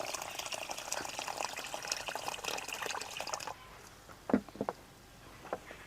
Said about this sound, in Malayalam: നമുക്കിനി അരി ഒന്ന് ആദ്യം കഴുകിയിട്ട് ഒരു 10 മിനിറ്റ് കുതിർത്താൻ വെക്കാം.